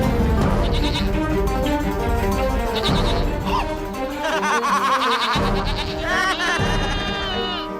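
Frightened goats bleat repeatedly in a dramatized legend, wavering cries overlapping one another in quick succession with some voices mixed in.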